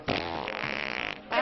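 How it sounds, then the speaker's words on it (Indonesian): A single loud, close fart in an Indonesian comedy film, a buzzy, sputtering blast lasting about a second, followed by a brief gap and another short burst. "saya nggak mau kamu kentut di depan saya"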